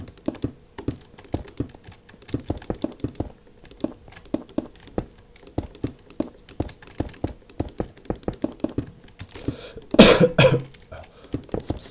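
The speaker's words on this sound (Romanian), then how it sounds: "Mă omoară tuse asta." A person coughs harshly once while typing on a computer keyboard during Minecraft play, the cough standing out loud and close above steady, rapid key clicks.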